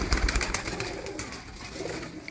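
Breeder pigeons cooing close by, a few soft throaty coos in quick succession over faint background noise.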